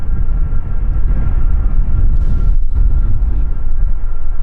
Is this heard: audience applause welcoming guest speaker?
no